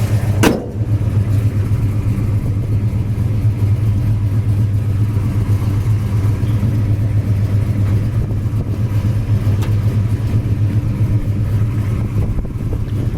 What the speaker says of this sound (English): The engine runs great.